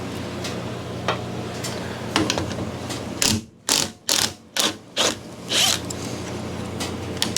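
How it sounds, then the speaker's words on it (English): A 13 mm socket wrench works the upper triple tree bolts loose on a Garelli SSXL moped, giving a run of five quick ratcheting bursts in a row, close and fairly loud, after some quieter clicks and knocks. "So now we should be able to just rip these upper triple tree bolts out."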